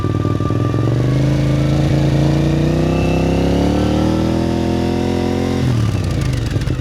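A V-twin sport motorcycle engine with gear-driven cams revs steadily upward in pitch, loud and close, with a supercharger-like whine, then drops back as the throttle closes.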